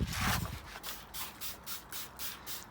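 Wet sandpaper rubs over a car's fog light surround on a Fiesta ST180, starting with a heavier scrub and settling into regular back-and-forth strokes, about six even passes, close and moderately quiet.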